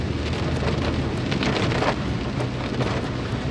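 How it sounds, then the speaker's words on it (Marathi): Steady, dense downpour of heavy rain in pitch darkness at night near Bhimashankar, a continuous hiss with scattered drops pattering close by, no voices. "पूर्ण अंधार आहे आणि तुफान पाऊस आहे तुफान"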